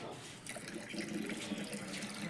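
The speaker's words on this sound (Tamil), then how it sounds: "நம்ம இப்போது இந்த ஒரு லிட்டர் தாய் திரவத்தை இதோடு சேர்க்க போகிறோம்" A liter of mother liquid for biofertilizer, such as Pseudomonas or Metarhizium culture, is poured into a mixture, making a steady splashing, gurgling flow that stays close and continuous throughout.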